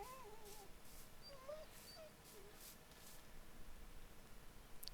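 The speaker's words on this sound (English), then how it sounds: "don't mind a whiny dog, that's always a highlight" An old beagle whines softly in a few faint, thin whimpers and yips against a low background hiss, with no speech over it.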